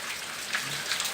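Torrential rain pouring in Florianopolis, Brazil, a dense, even hiss of drops close by, with a few brighter splashes and no voices.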